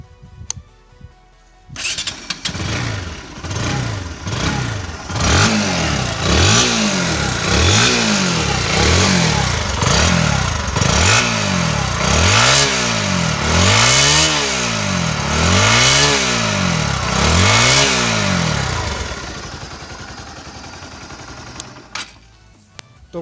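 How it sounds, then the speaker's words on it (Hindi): A Bajaj Pulsar NS160 motorcycle with its engine in like-new condition idles up and is revved about a dozen times in a steady rhythm, each rise and fall loud and close, before dropping back to idle. "चलिए आपको मैं बाइक की एक बार साउंड भी सुना देता हूँ"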